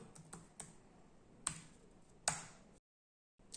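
Quick taps on a computer keyboard as an IP address is entered, a few sharp, close keystrokes spaced irregularly, then a brief silence and another tap.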